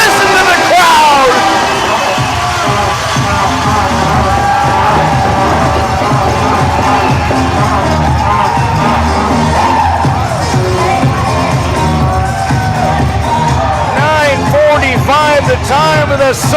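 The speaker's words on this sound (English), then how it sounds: "Alex Newhook, listen to the crowd." A hockey arena crowd roars and cheers right after a goal, a loud sustained din of whoops and shouting that carries from start to finish, with swelling peaks near the end.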